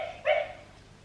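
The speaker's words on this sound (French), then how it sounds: "C'est le petit chien de la famille" Small family dog giving a single short, sharp bark indoors, fairly close and brief, with quiet room tone before and after.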